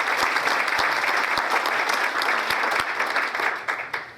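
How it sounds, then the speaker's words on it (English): An audience bursts into dense, continuous applause, a close wash of many hands clapping at once that holds steady for a few seconds before tapering slightly at the end. "give yourself a round of applause"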